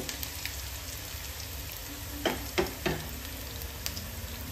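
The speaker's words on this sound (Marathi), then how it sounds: "तर खरपूस असा तेलामध्ये फ्राय करून घ्यायचा आहे।" Garlic cloves and green chillies fry in oil for a spiced okra dish, giving a low steady sizzle with a few close knocks and scrapes of stirring.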